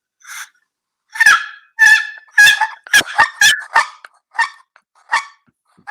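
A friction turkey call is scratched in a series of raspy, honking yelps, about a dozen short calls in an uneven rhythm, close and clear.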